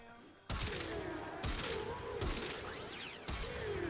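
Heavy Kuva Zarr cannon fire in Warframe, with four loud booming blasts spaced about a second apart, each trailing a sweeping whine and ringing debris under a dense mix of game effects.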